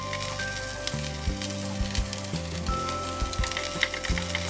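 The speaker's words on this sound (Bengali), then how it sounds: "মশলাটা আমরা আরেকটু ভেজে নিব।" Spice paste with ginger and garlic fries in oil in a pan, a steady close sizzle with occasional soft stirring scrapes and crackles, no voices.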